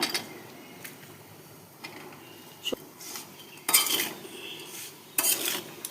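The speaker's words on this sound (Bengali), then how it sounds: "এভাবে সব মিশ্রণ করে দিয়ে দিচ্ছি করলা।" Bitter gourd pickle mixture being stirred in a pot or bowl, with scattered metallic scrapes and clinks of a spoon, soft between strokes and sharper in a few louder bursts.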